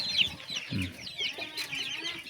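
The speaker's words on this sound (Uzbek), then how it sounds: "Ko'zni quvontiradi dekorativ tovuqlar." Decorative ornamental chickens cluck softly nearby in short, overlapping calls, with some higher chirps from other birds woven through a quiet background.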